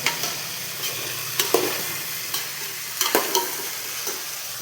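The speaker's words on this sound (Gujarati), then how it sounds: "આપણે મસ્ત ચણા વઘારી નાખ્યા છે" Chickpeas fried with spices are stirred in a pan, with a soft continuous sizzle broken by repeated spoon scrapes and clanks at irregular intervals.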